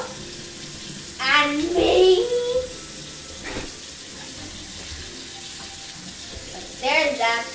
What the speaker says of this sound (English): We're rinsing off our shrimp.